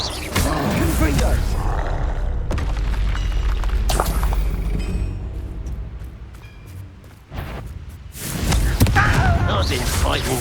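A Confringo fire curse bursts in a Hogwarts Legacy duel, a deep booming explosion with a roaring rumble that swells and fades, followed by further blasts amid spell effects.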